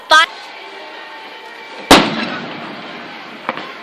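Fireworks going off outdoors: one sharp pop, then a louder crackling burst that fades away, and finally a small distant pop.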